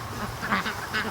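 Free-range ducks in a flock quacking, several short nasal calls in an uneven sequence over a low outdoor background, moderately close.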